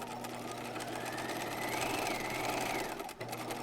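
A sewing machine runs a steady line of stitches at 2.5mm length, a continuous close mechanical whir with a fast rhythmic needle chatter that cuts off abruptly near the end.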